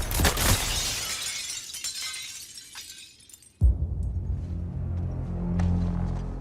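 Glass shatters loudly in the Suicide Squad video game, a bright crashing spray of shards that rattles and settles for a few seconds before cutting to a low, rumbling game ambience.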